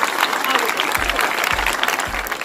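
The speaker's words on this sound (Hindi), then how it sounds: "छोटा बच्चा है, तालियां जोरदार बनती है भाई" Audience clapping for a young child who has just recited a poem at a local martyrs' day event, a dense steady patter of hands with low thumps and voices mixed in.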